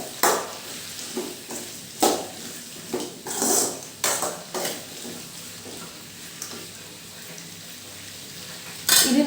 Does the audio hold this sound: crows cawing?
no